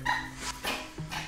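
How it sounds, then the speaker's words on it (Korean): A dog barks warily at a stranger staring at it, giving three sharp barks close by in quick succession with no talk. "무척 경계하며 계속해서 짖는"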